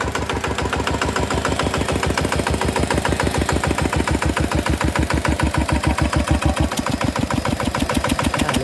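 A Kubota ET diesel engine fitted with an RT injector idles with its exhaust pipe blocked off, giving a loud, close, steady rapid knocking chug with an even rhythm throughout and no voices.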